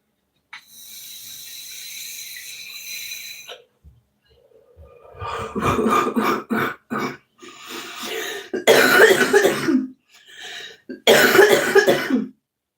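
A series of harsh coughs in several bursts, close and fairly loud, after a stretch of hissy breathy noise at the start.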